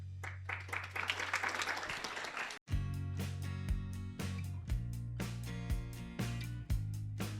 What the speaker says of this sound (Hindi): कृपया तालियां बजाएं, बेंच नहीं।